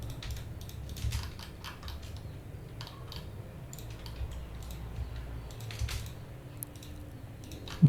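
Soft keyboard typing during SketchUp modelling, a steady patter of light key taps over a low background hum, ending in a sudden louder knock.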